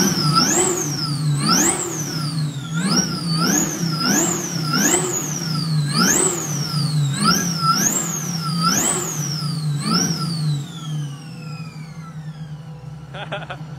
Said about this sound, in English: Pakinggan naman natin yung sa engine bay,